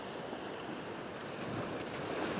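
Ocean waves washing over coastal rocks near high tide during winter rock fishing, a continuous broad rushing wash mixed with wind buffeting the microphone, fairly faint and steady with no talk.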